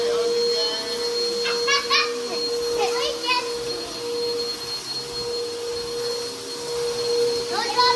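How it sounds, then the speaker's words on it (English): A household vacuum cleaner drones steadily in a room being cleaned, holding a constant whine through the whole stretch while children chatter and call out over it. "Daddy has the vacuum"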